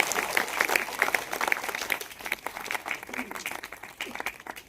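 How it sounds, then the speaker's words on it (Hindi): Applause at an annual felicitation ceremony honouring Urdu school students, a crowd clapping steadily and fairly loudly, swelling and easing over a few seconds. "उनके तालियां जोर से बजाइए उनके लिए"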